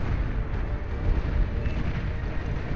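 A Pitbull turret in Beyond All Reason fires on advancing Marauder units, producing a continuous dense rumble of overlapping blasts and booms, loud and steady throughout with no voices.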